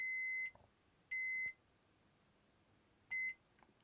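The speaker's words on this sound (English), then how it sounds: "when I press this button, we should get a beep" A continuity tester beeps as its probes touch points on a Steam Deck circuit board: three short, clean, high electronic tones with brief silences between them, faint and close.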